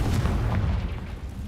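Confringo blasting spell in the video game Hogwarts Legacy, a deep booming explosion with rumbling low-end weight that rolls on for over a second and then fades slightly.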